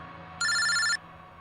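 A phone rings in a single bright electronic burst of about half a second, loud against a quiet, faintly humming room.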